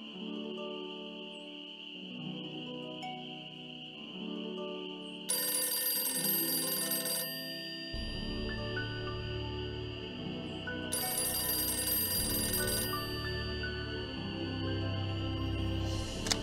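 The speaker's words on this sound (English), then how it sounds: "writing to you while I wait for the phone to ring." A telephone rings twice in the video game Nancy Drew: Ghost Dogs of Moon Lake, sharp ringing bursts over soft background music with a low drone.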